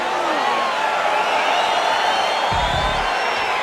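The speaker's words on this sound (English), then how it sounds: "crowd getting excited as this fight gets underway" A dense arena crowd roars and whoops steadily at the start of a Jim Miller versus Donald Cerrone lightweight bout at UFC 276 in the UFC 4 video game, a loud continuous wash of cheering with a brief low thump near the end.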